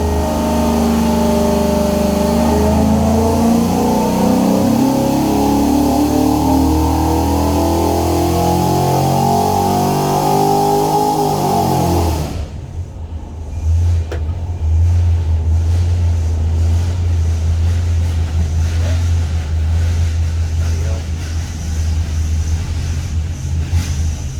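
A 408 stroker V8 on a dyno pulls hard with a loud, rising engine roar, then drops sharply back to a rough, rumbling idle that carries on for the rest of the run.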